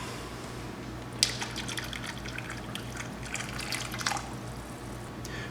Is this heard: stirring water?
yes